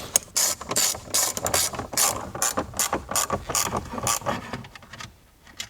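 A hand ratchet tightens bolts on a dash mount in a Gen2 Ford Raptor, producing rapid bursts of close, crisp clicking in quick strokes that slow and fade near the end.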